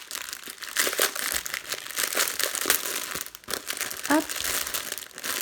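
Plastic bags of round diamond painting drills being opened, loud continuous crinkling and rustling up close, with a short voice word partway through.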